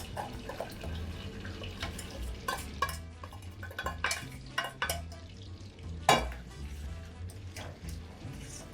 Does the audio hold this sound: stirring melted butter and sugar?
yes